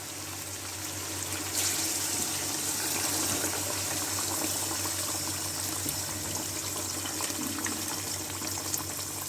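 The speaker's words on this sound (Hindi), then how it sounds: "मैं इसमें थोड़ा सा गर्म पानी और डाल दूँगी।" Hot water pours steadily into a cooking pot in a soft, continuous gush lasting several seconds.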